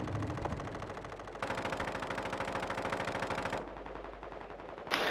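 Automatic gunfire in a Call of Duty: Modern Warfare II match, a dense burst of rapid shots lasting a couple of seconds amid lighter bursts and clatter, fairly close and loud throughout.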